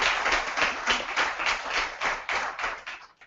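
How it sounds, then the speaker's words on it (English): An audience claps for a panel at a gender-based violence discussion, a dense, steady burst of applause lasting a few seconds before trailing off. "Please give them a round of applause."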